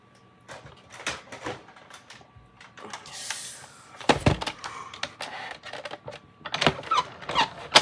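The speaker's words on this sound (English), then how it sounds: "And my die cut machine." A die cut machine runs a heart-shaped die through with uneven mechanical clicks, clunks and whirring bursts, close by and moderately loud.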